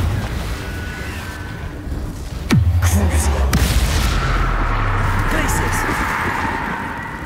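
A Confringo fire spell in Hogwarts Legacy bursts with a sharp, loud blast and a rumbling boom that trails into a sustained roar, with a voice calling out before it.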